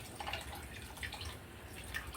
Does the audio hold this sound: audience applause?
no